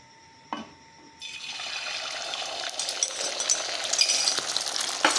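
Beaten egg hits a hot pan for an egg roll, starting with a soft tap, then a steady sizzle and crackle of frying that builds and stays close and moderately loud, with no talking.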